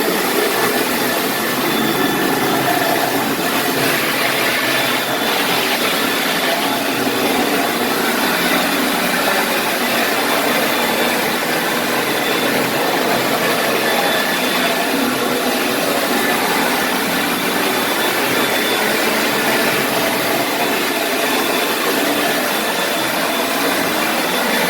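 A floor cleaning machine vacuums up rinse water, giving a loud, steady, broadband suction roar close by that holds without a break from start to finish, with no voices over it.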